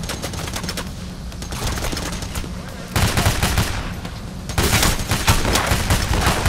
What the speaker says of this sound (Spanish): Voy a disparar con la pistolita